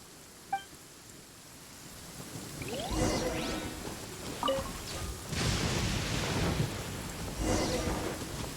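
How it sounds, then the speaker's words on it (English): Thunderstorm in the video game Genshin Impact: low rumbling thunder and rolling bursts of rain and wind that swell and fade over several seconds, with a few small game effect tones at the start. "Uh-oh! Lightning storm!"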